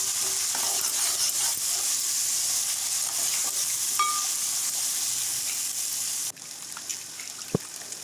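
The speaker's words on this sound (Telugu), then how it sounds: "అంతా ఒకసారి మళ్ళీ కలుపుకోవాలి" A spoon stirs sizzling chicken curry masala (kodi pulusu) with turmeric in a pan: a loud, steady frying hiss that drops suddenly in level, followed by a single sharp clink.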